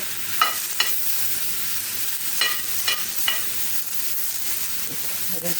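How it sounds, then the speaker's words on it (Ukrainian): Steady sizzling of eggplant frying in a pan, with a few sharp scraping clicks of a utensil stirring now and then, no voices. "Зараз розігріється сковорідка. І швиденько все підсмажено."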